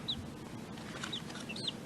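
Easter Egger chickens cluck softly in a few brief, high calls spaced apart over a quiet background rumble, faint and close.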